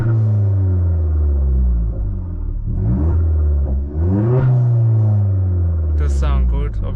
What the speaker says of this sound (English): Obviously Cobra exhaust system, 3-inch Cobra exhaust system, back box delete.